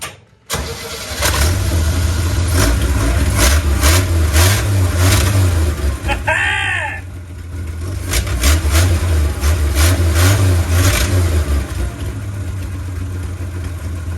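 A 1967 Chevy G10 van with a choke cranks, fires up and settles into a rough running idle, up close and loud, with a brief squeal partway through and some revving.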